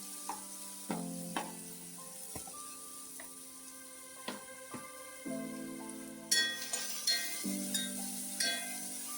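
Coconut sprout (pongu) sautés in coconut oil, giving a steady low sizzle broken by scattered clinks and scrapes of a utensil, with a brighter burst of frying partway through.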